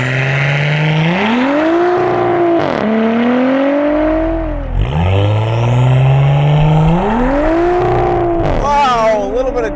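Audi S4 accelerating hard on the street with a little torque steer, its engine note climbing in repeated rising sweeps through the gears, loud and close from inside the cabin.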